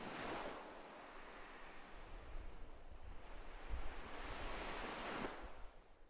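Ocean waves wash onto a beach at night, a broad, hissing roar that swells and recedes in slow surges, with a heavier break near the end, under a constant airy rush and no voices.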